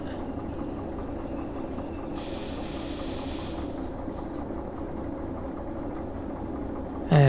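A freight train in the Derail Valley simulator eases in during steel mill shunting, a steady low rumble running throughout with a brief hissing burst near the start.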